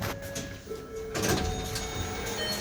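Elevator doors slide open at the second floor of Barnsley Interchange, giving a short mechanical rumble and whirr with a faint chime-like tone, heard close up in a quiet lift lobby.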